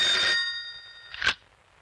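An old-style telephone bell rings in a short burst, then a brief second jangle, loud and close with quiet afterward.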